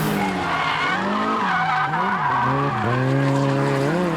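Tires on the 8.6 squeal loudly and continuously through a four-wheel drift toward the outside guardrail in an anime car race, the shrieking tone bending and sliding in pitch under engine noise, with no talk.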